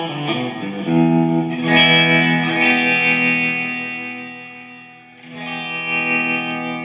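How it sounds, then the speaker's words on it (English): Electric guitar played through the built-in reverb effect of an Enya Nova Go Sonic, sustained clean chords ringing with a lush, chorus-like wash, a new strum around the middle and another near the end. "Let's put the reverb on."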